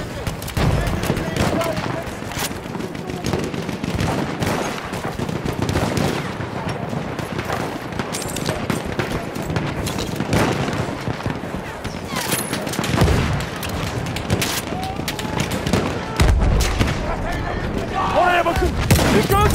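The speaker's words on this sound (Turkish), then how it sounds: "Makinalı tüfek!" Continuous machine gun fire and explosions from the World War I shooter Battlefield 1, dense overlapping bursts with booms over about twenty seconds, mixed with game voices shouting.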